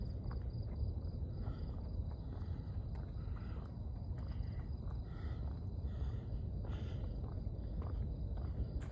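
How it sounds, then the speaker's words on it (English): Crickets chirping outdoors at night, a faint continuous high-pitched trill over a dense low rumble of background noise, with no talking. "And I'm hearing some crickets."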